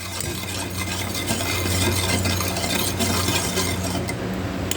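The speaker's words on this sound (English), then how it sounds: "I'm going to give this a nice whisk and bring it up to a scald" Milk with sugar and salt being whisked in a pot, a steady scraping and clinking of the whisk against metal running continuously and close, with a low hum behind it and no talking.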